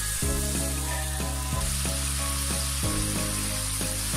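Spice paste with green chillies and a splash of water sizzles and fries steadily in a pan for a Bengali gojar fish recipe, a loud continuous hiss broken by a few regular scraping thuds of stirring.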